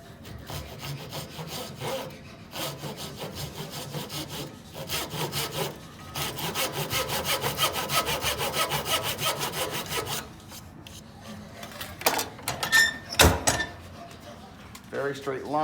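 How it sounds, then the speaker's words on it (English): A hand saw cuts through a small block of wood for a pinewood derby car, giving rhythmic rasping back-and-forth strokes close up, with pauses between runs of strokes. "Keeping my saw very straight."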